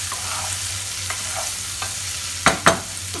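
Beans frying in a pan under a soft continuous sizzle, with a few light stirring scrapes and two sharper scrapes near the end, close and with no voices.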